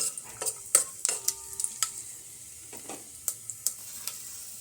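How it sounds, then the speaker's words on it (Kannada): A gentle sizzle of peanuts roasting in hot oil under intermittent scraping and clinking of a spoon against a pan, close and moderately quiet. "ಇದು ಸೀದೋಗದಿರೋ ಥರ ರೋಸ್ಟ್ ಮಾಡ್ಕೋಬೇಕು"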